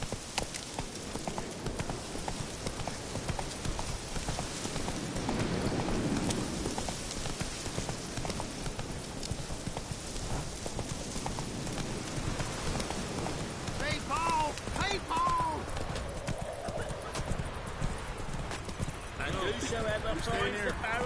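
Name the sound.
horse Roach galloping in video game The Witcher 3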